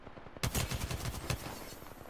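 Gunfire in the Apex Legends video game: a sudden rapid automatic burst of shots, loud and close, following a quiet start.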